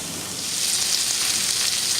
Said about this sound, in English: Let's hear the sizzle.